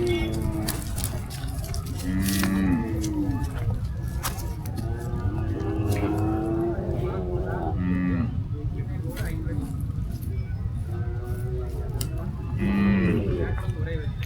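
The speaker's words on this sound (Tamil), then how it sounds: "எல்லா வகையான மாடுகளும் கன்றுகளும் இருக்குது" Cattle, bulls, bullocks and calves lowing repeatedly at a crowded temple-festival livestock fair in Anthiyur, several moos rising over steady crowd chatter and background voices.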